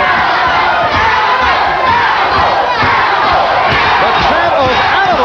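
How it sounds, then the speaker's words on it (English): Boxing arena crowd at a Frank Fletcher versus Noberto Sabater fight, a loud, dense roar of rhythmic chanting and cheering from many voices, sustained throughout with bursts of shouts. "The chant of animal from a portion of the crowd cheering on Fletcher, and the other portion of the crowd yelling Sabater, Sabater"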